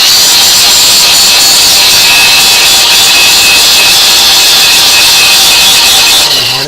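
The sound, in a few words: angle iron scraping paint and rust off metal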